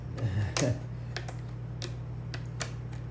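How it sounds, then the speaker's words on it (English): A Logitech wireless keyboard with corroded batteries is picked up and handled, giving a few sharp plastic clicks and taps spaced irregularly over a low steady hum, with no talking. "Here's a wireless keyboard, and I put a Scotch tape there."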